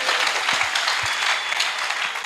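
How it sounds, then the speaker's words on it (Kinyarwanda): Steady, loud applause from a church congregation during a sermon, continuous clapping filling the whole stretch without breaks. "Dukomere Imana yacu amashyi."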